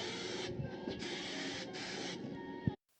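Spray adhesive hisses steadily from an aerosol can onto fabric lining a Mercedes SL trunk, a continuous close spray with brief pauses, ending in a small knock before cutting to silence.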